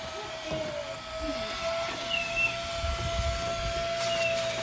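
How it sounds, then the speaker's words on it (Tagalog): A wet dry vacuum cleaner runs continuously with a steady high whine and airy rush, moderately loud and close, holding an even drone throughout. "Our vacuum, wet dry vacuum is very useful dito sa sasakyan."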